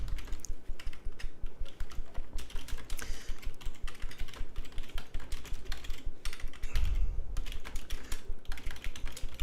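Rapid, steady keyboard typing, close by, with a continuous run of crisp key clicks and an occasional heavier thump.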